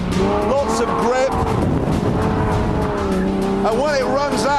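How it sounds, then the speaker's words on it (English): A Jaguar E-Type is driven hard, its tires squealing and skidding loudly through corners over a steady engine roar, with a voice talking over it. "this is the nicest E-Type I've ever driven"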